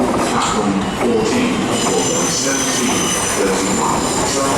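A Southern passenger train of eight coaches stands at a London station platform, its loud steady rumble mixed with squealing wheels and screeching metal, with faint voices and announcements underneath.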